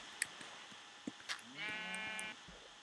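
In a survival video game, a sheep gives one clear bleat lasting under a second amid faint clicks and soft game sounds, quiet overall.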